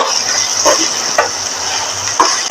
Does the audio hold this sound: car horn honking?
no